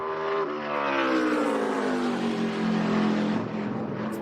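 A race car screams around the track during practice at the ToyotaCare 250, its engine note climbing and falling in a loud, continuous high-revving drone with no talking.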